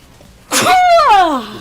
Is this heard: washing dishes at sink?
no